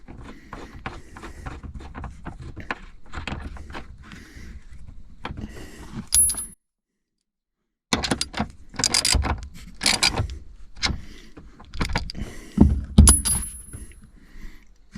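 Clicking, rattling metal and plastic handling sounds as a bolt is refitted on the rear seat of a 2017 VW Jetta, close up and uneven, with a short gap of silence midway.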